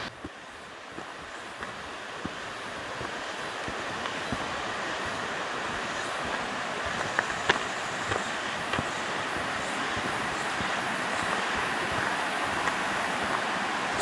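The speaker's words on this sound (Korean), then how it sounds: "푸른 숲과 시원한 계곡 물소리가 끊임없이 들려오는 이 길을 함께 걸어보세요." A mountain valley stream flows along a forested hiking trail, a steady broadband rush of water at moderate volume, continuous and even with no voices.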